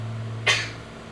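A single short, sharp sneeze inside a small plane cockpit, abrupt and close, heard over the steady engine drone.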